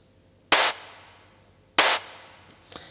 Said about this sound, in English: it's a nice, like, noisy kind of clap.